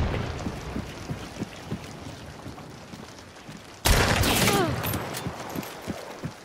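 Explosions and gunfire in a video game, with scattered distant shots and rumble, then a sudden loud blast that roars and slowly fades before more sporadic shots.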